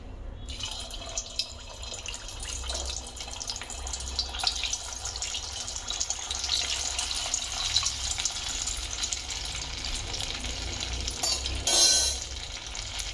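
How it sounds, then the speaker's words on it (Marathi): A small test piece of methi matar kabab mixture fried in hot oil on a lowered gas flame, producing a faint, steady hissing sizzle with a brief louder burst near the end. "छोटंसं आपलं एक हे टाकून बघायचं आधी तेल तापलंय का नीट व्यवस्थित"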